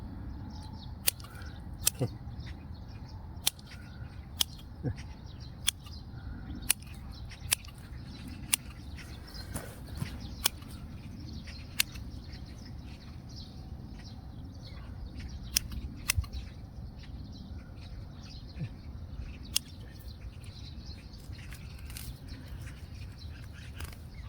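Pruning shears snip pine bonsai branches in a string of sharp, isolated clicks spaced every second or two, over a low steady outdoor hum with faint bird chirps in the background.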